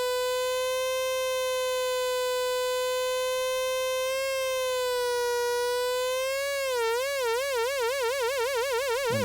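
A Dunnington Audio 258D dual oscillator drones as a steady, bright buzzing tone, then its pitch begins to wobble as the modulating oscillator is slowed, turning into a slow, pronounced warble, loud and alone.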